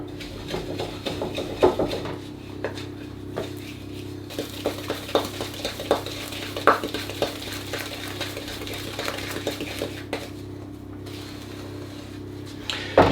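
Margarine and dairy-free milk are creamed by hand in a bowl, heard as a steady series of close, soft scraping and stirring strokes over a low background hum.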